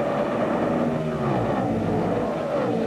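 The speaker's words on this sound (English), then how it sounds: "it sounds like it's got a broken valve spring" A NASCAR race car engine with a broken valve spring roars past at high revs, a harsh, rough drone with a shifting pitch that holds steady and loud throughout, at the 2005 Coca-Cola 600.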